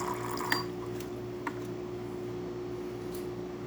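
A steady stream of hot water pours from a Gaggia espresso machine, a soft continuous hiss and trickle under a low electrical hum, with a couple of faint clicks near the start.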